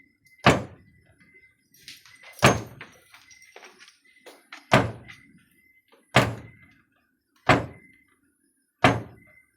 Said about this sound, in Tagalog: Gumagalaw yung pintuan bro.